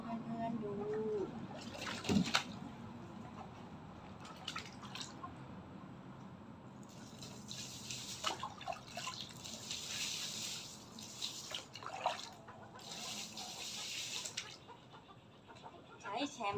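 Water trickles and drips while a Silkie chicken is bathed, a faint running splash under a voice, with a brief cluck-like call early on and occasional louder sprays of water.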